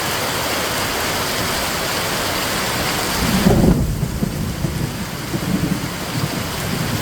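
Heavy downpour with thunder in Rajapur, a steady dense roar of rain throughout, joined midway by a deep rumbling thunder crash that swells and then rolls on under the continuing rain.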